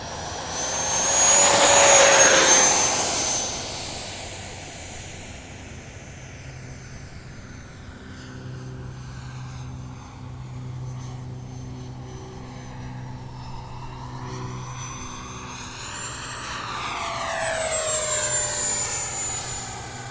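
An H-King Flycat V2 70mm electric ducted fan model jet flies past outdoors, its high whining scream swelling loud as it sweeps close, fading into a distant hum, then rising and shifting pitch as it passes again.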